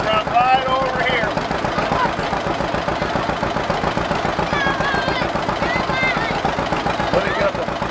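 An engine runs steadily to power a sawmill blade at a Power Days show, with a loud, rapid, rhythmic chugging throughout. Faint squeaks sound above it.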